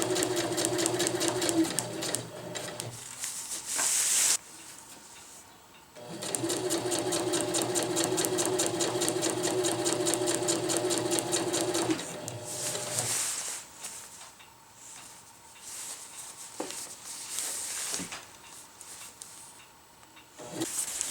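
Sewing machine stitching the ridgeline seam of a tarp, running in fast, even bursts of needle chatter that stop and restart several times, close and fairly loud, with quiet pauses between runs.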